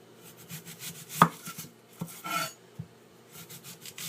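Knife chopping an onion on a board, a quick run of crisp cuts and scrapes with one sharper thump, close and fairly quiet.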